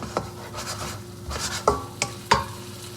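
Chicken hearts stir-fry in an oiled pan, a soft sizzle under a few sharp scrapes and metallic clinks of the utensil against the pan.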